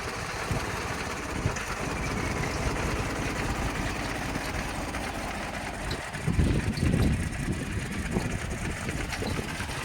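A Mahindra 295 Super Turbo tractor engine runs nearby with a steady low diesel rumble, swelling louder for a moment toward the end.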